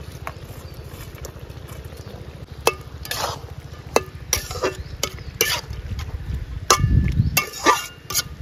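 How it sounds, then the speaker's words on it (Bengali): Bata fish pieces drop into a pan of simmering tomatoes, onion and a little water: scattered soft plops and utensil clinks over a steady low burner hum, with a thicker, louder bubbling burst near the end. "এবার আমি মাছগুলো দিয়ে দিচ্ছি।"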